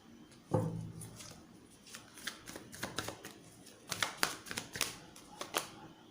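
Tarot cards are shuffled and handled close by, with a sharp tap followed by quick flutters and crisp riffling bursts in uneven clusters, soft and with no voice.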